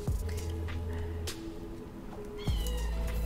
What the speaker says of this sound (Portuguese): cada estilo aparentemente faz um miado